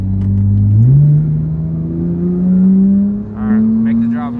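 A Porsche GT3 engine drones steadily as the car drives, its pitch climbing in a smooth rev around the first second and holding high; a voice talks over it near the end.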